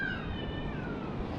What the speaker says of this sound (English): there's 3 or 4 cats that I could hear in the background.